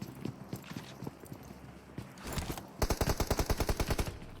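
Gunfire in the PUBG Mobile battle royale game during an esports match: scattered single shots, then a fast, loud burst of evenly spaced automatic fire near the end.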